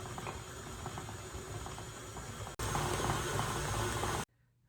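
Electric mixer beating sugar cookie batter of butter, sugar, orange extract and eggs, a steady close whirring drone that grows louder partway through, then cuts off abruptly near the end.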